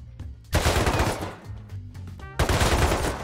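Rapid automatic gunfire from a video game comes in loud bursts, with a long burst, a short pause, scattered shots and then another sustained burst, all close and without talking.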